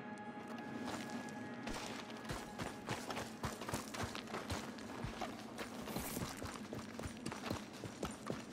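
Horse hooves clip-clop steadily in Red Dead Redemption 2, a dense run of close, sharp strikes over a continuous background bed, with no talking.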